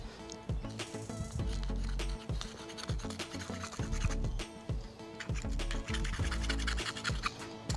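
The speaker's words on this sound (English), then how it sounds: "That paint just flakes off nice and easy." Softened paint is scraped off an old fishing lure after a soak in Windex, a close series of short, gritty scratching strokes in an irregular rhythm with no talk.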